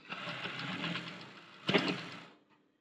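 Sewing machine stitching a blouse, a soft rapid whirring run lasting a couple of seconds, then a brief clunk and a short final burst before stopping, heard close and fairly quiet.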